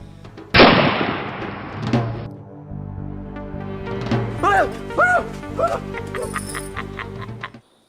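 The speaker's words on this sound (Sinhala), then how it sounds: "වෙඩි සද්දයක් නේද? ළඟින්ම ඇහුනේ." A single sharp, loud gunshot cracks close by in a Sinhala TV drama episode, its blast decaying over about a second, followed by dogs barking over a low background hum.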